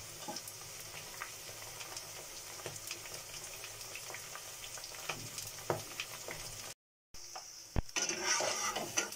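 Potato chips coated in water chestnut flour fry in hot oil for a Navratri fast, a quiet steady sizzle with occasional utensil clinks and a brief dropout near the end.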